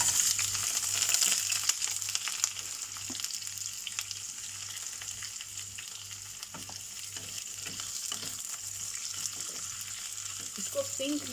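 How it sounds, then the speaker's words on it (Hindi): Onions, green chilies and cashews sizzle steadily in half a cup of hot oil, a continuous close crackle with occasional stirring clatter throughout. "इसमें 2 medium size onion, 3 green chilli और ये कुछ काजू है। इन सबको हम पहले फ्राई करेंगे।"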